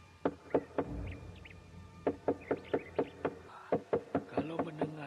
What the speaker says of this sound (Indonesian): Kalau mendengar cara orang itu menggedor pintu gerbang rumah, pasti dia datang bukan dengan maksud yang baik.